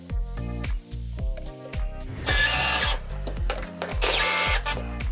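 A power drill drives black screws into wall plugs while wooden battens and acoustic panels are mounted for a TV wall. It gives repeated whining bursts that rise and fall in pitch, the later ones louder and harsher, with brief pauses between them.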